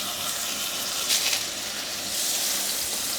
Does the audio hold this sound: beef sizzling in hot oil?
yes